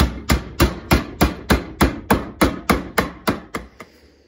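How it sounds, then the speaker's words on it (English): A hammer strikes a part down onto marker lines while building a classifier, twelve sharp, evenly spaced blows about three per second, close and loud, then silence. "Put it on my marker lines right there and hammer it down."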